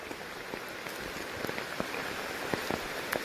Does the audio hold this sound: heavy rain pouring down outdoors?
yes